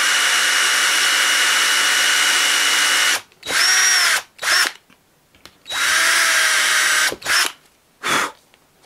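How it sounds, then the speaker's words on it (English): A power drill drives screws into wood to join two pieces for a gaming table, with one long steady whine followed by several shorter bursts of revving and stopping, loud and close. "So that when I put the screws in, it'll sort of pull up two pieces of wood"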